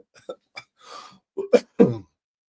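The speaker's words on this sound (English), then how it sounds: "trying to get over this cough" A few short, sharp coughs in a quick cluster, close and moderately loud, with brief pauses between bursts.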